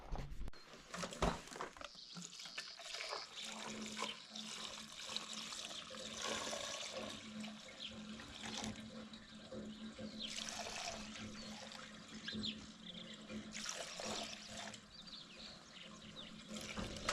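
Water poured and dumped out of containers outdoors on a ranch, a steady splashing, gurgling wash with patter, fairly faint and continuous with no talk.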